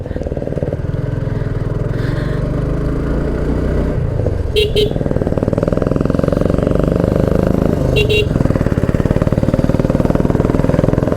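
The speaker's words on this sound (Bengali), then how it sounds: "জিক্সার কার্বোরেটার এই মডেলের এই বাইকটা থেকে" A carbureted Suzuki Gixxer motorcycle engine drones steadily and loudly at close range while being ridden, its low rumble continuous throughout, with brief higher-pitched chirps near the middle and a voice talking over it.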